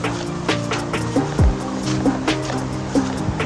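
A flooded river swollen by heavy rain rushes past in a steady broadband wash, close and continuous, with scattered splashes and a brief low thump partway through.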